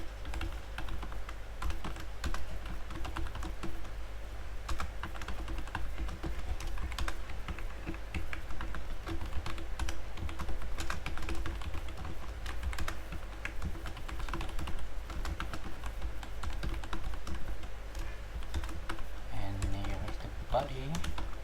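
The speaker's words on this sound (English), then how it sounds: "Here I type some necessary codes." Someone types HTML and JavaScript code on a computer keyboard, with dense, continuous key clicks at close range that run steadily from start to finish.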